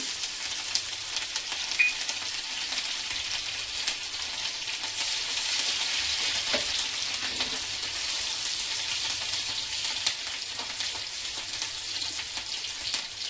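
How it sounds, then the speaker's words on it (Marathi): Finely chopped green chillies fry in leftover oil, giving a steady, bright crackling sizzle that holds even and close throughout with no voices. "त्यानंतर उरलेल्या तेलामध्ये आपल्याला ही मिरची बारीक चिरलेली टाकून घ्यायची"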